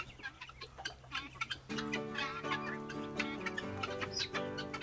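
Guinea fowl in a small backyard flock give repeated harsh, rhythmic calls at moderate distance, mixed with light clicking and clucking sounds.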